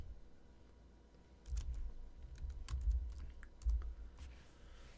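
Java code is typed on a computer keyboard, with a quiet run of irregular key clicks and soft thumps that sits close to the microphone and picks up in the middle with no one talking.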